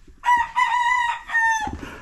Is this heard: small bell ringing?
no